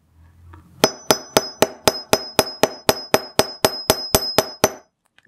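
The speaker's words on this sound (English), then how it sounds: "we want to hammer that out also. So we'll put the whole squiggly line design here on the end of the anvil" A hammer strikes wire shaped into a heart ring design on the end of an anvil, around sixteen sharp metallic clinks in a quick, even rhythm, close and loud.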